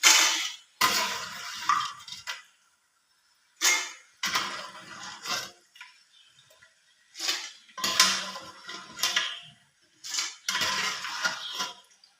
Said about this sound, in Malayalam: ഇത് ആദ്യത്തെ ട്രിപ്പ് മൂത്തിട്ടുണ്ട് ഇത് ഞാൻ കോരുവാണ്